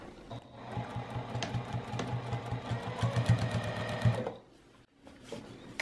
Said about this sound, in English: we are just going to do the exact same thing, sewing all the way around the outside